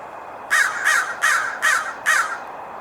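Five loud, harsh crow caws in an even rhythm, about one every half second, close by in a park with blue jays and a Cooper's hawk around, over quiet background.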